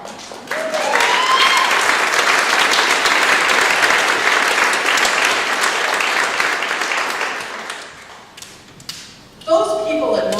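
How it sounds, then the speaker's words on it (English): A vaudeville show audience breaks into loud, sustained applause that swells quickly, holds for several seconds, then thins out into scattered claps and thumps near the end. "a round of applause."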